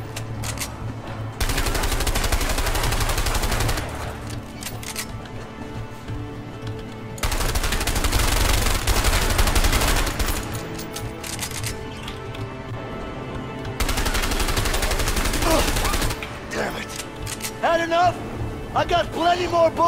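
Gunfire in the video game A Way Out: three long bursts of rapid automatic shots separated by quieter gaps, with players talking over and between them.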